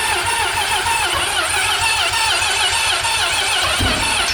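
A Mazda FD RX-7 rotary engine with a broken ignition cranking and catching, a loud, close, buzzing mechanical churn that holds steady before a low thump near the end.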